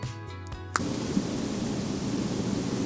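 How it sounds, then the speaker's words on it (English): A white noise machine hisses steadily and evenly, switching on abruptly after a moment of quiet room tone and a couple of faint clicks. "I've secretly been running this white noise machine next to me this entire time"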